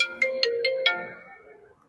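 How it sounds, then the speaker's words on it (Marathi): A phone rings for an incoming call, a short melodic ringtone of five quick bright pulses followed by a fading tail, close and clear with no talk over it. "फोन आलाय."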